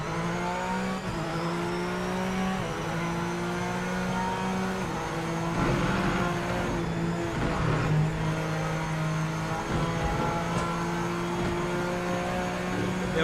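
Race car engines in the VR racing game Project Motor Racing drone and shift pitch continuously, with revving rising and falling as cars pass.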